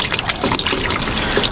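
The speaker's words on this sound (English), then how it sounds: "I'm gonna let this overflow a little" Water gushing and overflowing from a container outdoors, a loud close steady rushing splash throughout with no speech.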